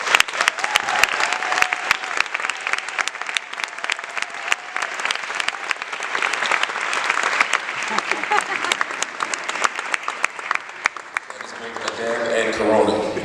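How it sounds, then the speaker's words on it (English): An audience applauds Linda Sarsour at an author event held at Uncle Bobbie's, with loud, steady clapping that runs for several seconds before fading as people begin talking. "please give a warm round of applause to Linda Sarsour"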